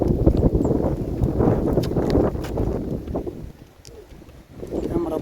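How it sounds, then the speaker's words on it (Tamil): Strong wind gusting hard beside a dam in Valparai, a rough, roaring rumble buffeting the microphone throughout, with a brief lull near the end and muffled voices underneath. "காத்து ஆளவே தள்ளுது"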